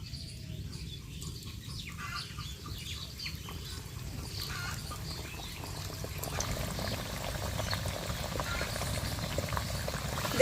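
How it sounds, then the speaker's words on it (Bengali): Wheat-flour nimki dropped into hot oil on a switched-off stove, frying with a steady, close bubbling sizzle that swells and grows busier toward the end, with no talk over it. "এবার আমি এই নিমকিগুলো তেলের মধ্যে ছেড়ে দেব"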